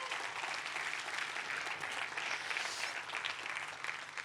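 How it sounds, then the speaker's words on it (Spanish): Church congregation applauding during a sermon, a steady, fairly distant wash of many hands clapping that holds evenly throughout without any voices. "Dale un fuerte aplauso a Dios por eso."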